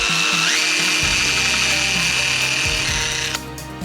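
A power drill whines at a steady high pitch, rising as it spins up and grinding continuously for a few seconds before easing off, drilling into the metal steering column lock cylinder of a VW T4 Syncro van.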